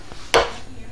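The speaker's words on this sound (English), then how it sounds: "celery cut fairly thick but not crazy thick" A single crisp knife chop through celery stalks on a cutting board, close and sharp, standing alone against a quiet kitchen background.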